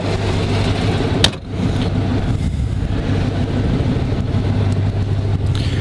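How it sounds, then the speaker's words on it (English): Supercharged 1934 Ford engine idling steadily and smoothly, close and fairly loud for the whole stretch, with one brief sharp click or knock early on. "Never really seen something with a blower run this quiet and smooth before."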